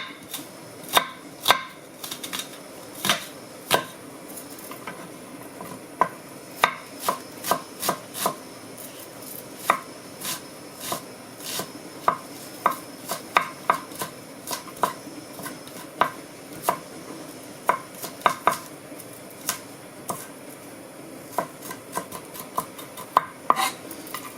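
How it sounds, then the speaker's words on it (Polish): A knife chops onion into small dice on a cutting board, a steady run of sharp, close taps with brief pauses, heard alone without talk. "Cebulkę kroimy sobie w drobną kosteczkę"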